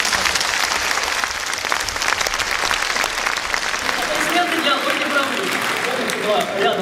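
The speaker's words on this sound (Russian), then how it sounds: "Аплодисменты для Ольги Балаговой." A concert audience in a winter theatre gives sustained, full applause for a performer, with loud, continuous clapping and some crowd murmur that stays strong throughout.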